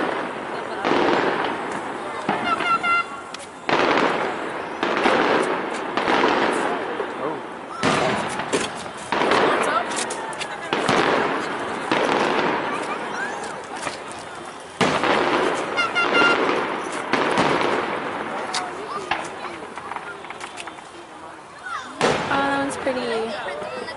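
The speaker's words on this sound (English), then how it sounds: "we're gonna watch the fireworks" Fourth of July fireworks burst again and again over about twenty-four seconds, loud sharp cracks and booms arriving in irregular clusters, with people talking in between.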